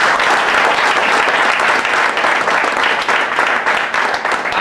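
An audience at a training seminar bursts into loud, dense applause, a steady roar of many hands clapping together without a break from start to finish.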